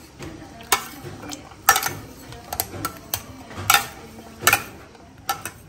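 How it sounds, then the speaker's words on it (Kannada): Cooked vegetables being mashed in a pot, irregular sharp clanks of the masher against the metal rim and base, several knocks spaced over a few seconds with soft squelchy scraping between them. "ನೋಡಿ ಚೆನ್ನಾಗಿ ಬೆಂದಿದೆ, ಇದನ್ನು ಸ್ವಲ್ಪ ನೋಡಿ ಈ ರೀತಿ ಮ್ಯಾಶ್ ಮಾಡೋಣ"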